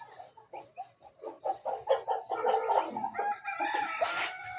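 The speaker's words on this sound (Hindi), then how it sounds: "मुर्गा मैंने पकड़ लिया है।" A rooster clucks and then crows while being caught and handled, with loud, close, choppy calls that build into a sustained crow near the end.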